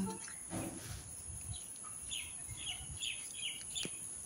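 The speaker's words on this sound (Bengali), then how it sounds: "চারিদিকে পাখি ডাকছে" Faint bird chirps and short tweets repeat in a quiet home garden with a steady high insect-like hiss in the background.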